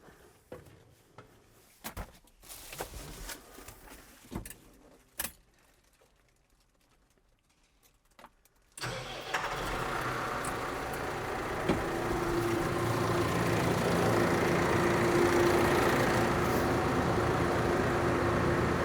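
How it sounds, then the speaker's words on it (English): A few quiet clicks and knocks, then an engine turns over and settles into a steady, even idle that continues to the end. "Right, let's start the engine up."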